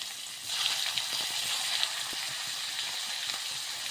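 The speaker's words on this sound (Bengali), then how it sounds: "ফুলকপিটা একটু ভাজা করে নেব" Cauliflower fries in a pan with a steady, soft sizzling hiss and faint crackles throughout.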